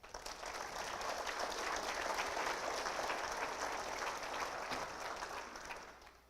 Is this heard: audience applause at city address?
yes